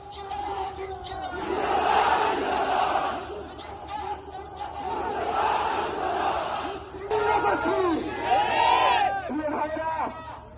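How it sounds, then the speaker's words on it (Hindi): A large crowd gathers at a funeral procession in Bangladesh, with many voices shouting and chanting together in loud, rising and falling waves, joined by a dense hubbub of overlapping calls. "इस दौरान भारी संख्या में लोगों की भीड़ उमड़ी थी।"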